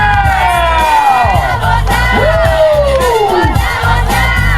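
A wedding crowd cheers loudly for a mother and son dance, with shouts, whoops and excited voices merging into a dense, continuous roar close by.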